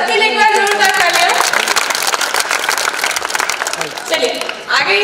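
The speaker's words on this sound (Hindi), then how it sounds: "सबके लिए एक बार जोरदार तालियां" An audience claps hard at a school celebration day event, a dense, loud wash of hand claps mixed with voices and cheering that carries through the whole stretch.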